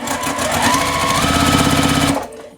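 A sewing machine stitches the outer corner onto a quilt block, its rapid needle chatter running loud and steady for about two seconds before stopping abruptly.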